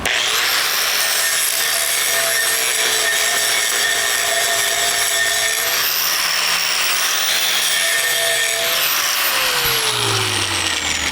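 A power grinder whines steadily on a 6-inch steel pipe, working down the start of a TIG and stick combo weld, loud and continuous with slight pitch shifts as the disc bears on the metal.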